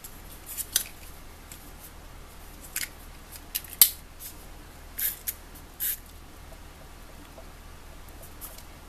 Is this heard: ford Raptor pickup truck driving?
no